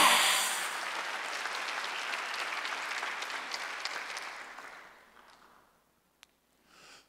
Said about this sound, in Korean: 박수 하나 더 해서 쫙.